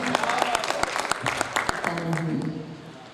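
Applause from the audience at a Hindi-Urdu poetry recital, with scattered sharp claps from a small crowd, moderately close, and some voices mixed in.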